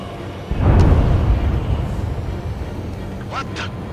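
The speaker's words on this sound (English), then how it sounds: "A huge explosion just went off underwater" A huge underwater explosion in the Ace Combat 7 video game booms in suddenly with a deep, loud low rumble that slowly decays, followed by faint high electronic chirps.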